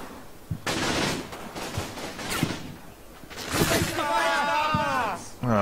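Bursts of small-arms and machine-gun fire crack out in a Combat Mission Fortress Italy battle at San Pietro, sharp shots and rattling volleys spaced irregularly, with someone talking over the fighting.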